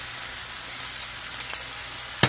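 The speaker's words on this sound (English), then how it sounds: "now we're putting in all our chives and celery and thyme" Chives, celery and thyme hitting a hot frying pan for a spicy tuna breakfast, giving a faint, steady sizzle with a few soft ticks and one sharp clink near the end.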